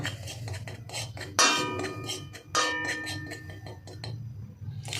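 A metal spoon clanks and scrapes against a cooking pan while turmeric is stirred into a chhana-based vegetarian egg curry, with irregular bright clinks and a few louder knocks close by.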